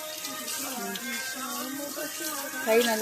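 Tap water running steadily over hands at a kitchen sink, a constant close splashing stream with a brief louder gush near the end.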